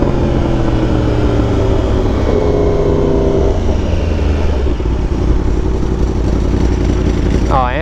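Ducati Panigale V4R superbike engine running loud and close, a throbbing multi-harmonic drone with slight shifts in pitch and a quick rising sweep at the end, no voices.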